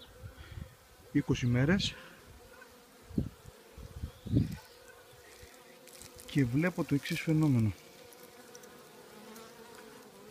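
Honeybees from a recently split colony buzz steadily around a hive, with the queen outside among a small cluster of bees; someone speaks over the continuous hum in places.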